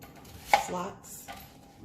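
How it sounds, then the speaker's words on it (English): A knife cuts an onion on a cutting board in a home kitchen, giving one sharp close chop followed by a softer slicing stroke and a faint later tap, with no talking. "Next, you'll take your onion, cut the side, make diagonal"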